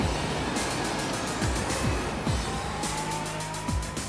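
A 20,000-horsepower marine engine at a shipyard starts up, producing a loud, continuous mechanical roar broken by regular low, heavy thumps, with no voices.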